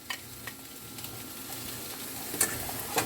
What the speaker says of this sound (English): You want to saute them a bit because you have some zucchini that kind of cook hard